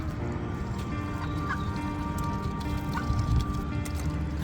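Ducks gathered outside a parked camper van in South Wales, feeding on porridge oats, make soft, scattered pecking and quiet muttering calls over a low steady background, with no talking.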